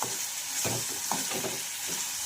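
Tomato fries in a pan for a quick vegetable dish, giving a steady close sizzle with several soft scraping stir strokes throughout.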